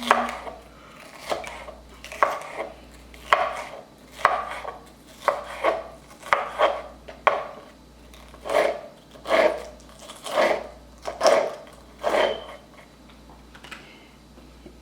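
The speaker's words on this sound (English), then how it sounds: "I like to dice them up almost the same size." A knife dices colourful vegetables on a cutting board, striking in a steady rhythm of crisp, close chops about once a second, with no talking.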